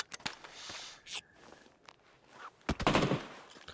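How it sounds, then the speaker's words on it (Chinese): Gunfire in a shooting video game, made up of a few sharp shots and a short rapid burst near the end, with soft footstep-like clicks between them and no talk. "他还开了两枪，让我别打他，别补他队友"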